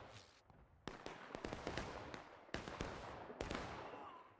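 Rifles fire in a volley in the Civil War video game War of Rights during a large multiplayer battle, a cluster of sharp, fairly distant cracks with several louder shots standing out over a dense crackle, heard faintly.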